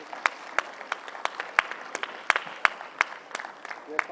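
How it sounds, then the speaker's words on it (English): Audience applause for panelists at a National Space Day event: steady clapping from a sizeable crowd with sharp individual claps standing out, sustained throughout at moderate level. "Let's have a huge round of applause, ladies and gentlemen"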